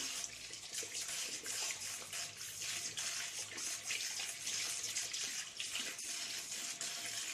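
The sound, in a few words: hands being rinsed under running tap water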